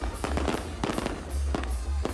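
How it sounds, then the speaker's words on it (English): Fireworks from the fireworks-making town of Tultepec in central Mexico, loud explosive bursts and crackles repeating in quick, uneven succession over a steady rumble, with no talking. "One town in central Mexico makes cohetes, fireworks."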